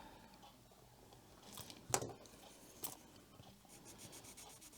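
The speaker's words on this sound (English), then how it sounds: "Guess we got to write a number down first." Pencil writing a number on paper during colored pencil swatching, quiet scratchy strokes with two brief sharper scrapes, faint and close.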